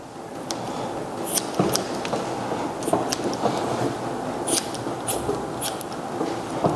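Short grooming scissors trim a Goldendoodle's coat, giving crisp, irregular snips close by over a steady low background hum, with no talking.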